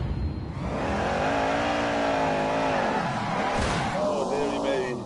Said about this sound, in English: Wheel spin, that just makes a huge amount of noise.